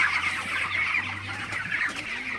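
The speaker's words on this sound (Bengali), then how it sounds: "আপনারা দেখতে পাচ্ছেন মুরগিগুলা কিন্তু একটা বদাভ্যাস আছে" Broiler chickens cluck steadily inside a farm shed, a dense overlapping chorus of many birds close by, with no talk over it.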